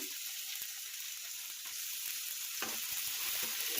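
Tomato and vegetables fry in a pan with a soft, steady hiss and crackle, faint and close, with a few light clicks of stirring and no talk.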